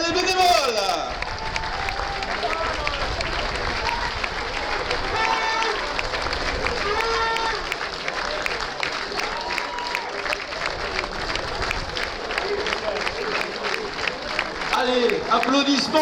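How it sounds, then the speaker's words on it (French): Crowd at the 75th French triple pétanque Jeu Provençal championship applauds the volunteers, dense continuous clapping with some cheering that carries through the whole stretch, loud and close. "Allez, applaudissements encore plus nourris pour les bénévoles."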